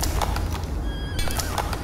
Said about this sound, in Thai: อุ้ยม้ามาจากไหนเนี่ย